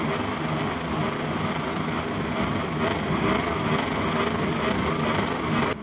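Motorcycle engines roaring at the start of the MotoGP Catalunya Grand Prix at Barcelona in the MotoGP 23 video game, a dense, steady wall of engine noise that holds at an even loudness throughout, with no voices.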